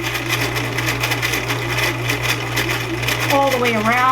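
A sewing machine stitches rows around a circle with a steady, close, whirring hum and a fast pulsing rhythm. A voice briefly starts near the end.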